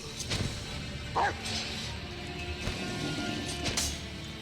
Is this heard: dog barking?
yes